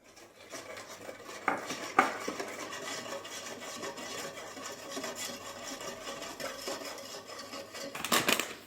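Kleicha dough ingredients, liquid vanilla and milk powder, are stirred in a bowl, giving a steady close scraping and rubbing with a few sharper knocks of the utensil against the side, and no voices.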